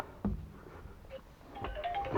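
A mobile phone rings faintly in a cluttered indoor space, a short tonal melody of rising beeps near the end, quiet against low background rumble and knocks.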